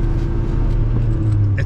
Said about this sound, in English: A lot of grinding, I know that, but I'm not able to get it in four low.